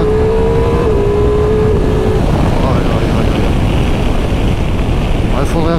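A Ducati Multistrada V4 motorcycle engine drones loudly under constant wind rush while riding, with a rising whine toward the end and someone talking over it.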